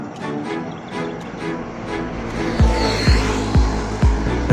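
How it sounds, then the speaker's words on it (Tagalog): Cars and other vehicles pass close by on a temporarily rerouted road in Porac, Pampanga, Philippines, with a loud continuous engine and tire rumble and a series of rhythmic thumps as wheels roll over a bump. "So dito dumadaan yung mga sasakyan."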